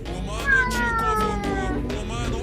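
A cat meows with a drawn-out, wavering cry, loud and close, amid household clutter and faint background voices.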